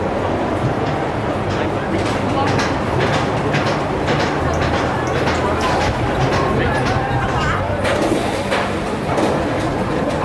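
A suspended looping roller coaster train at Heide Park in Germany runs along its track with a rattling rumble and repeated clacks, heard up close beneath talk and crowd babble.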